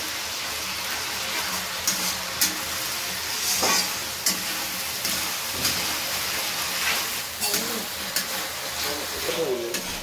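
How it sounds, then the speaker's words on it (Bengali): Masala with ginger paste sizzles and fries in a pan, a constant hiss with occasional stirring scrapes, while speech can be heard faintly in the background. "মশলাটা একটু ভেজে নেব।"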